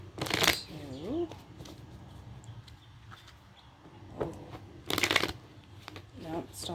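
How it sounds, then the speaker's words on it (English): Bursts of tarot card shuffling, a riffle near the start and another around five seconds, with quieter handling and a voice murmuring in between. "Let's get a good shuffle for Pisces."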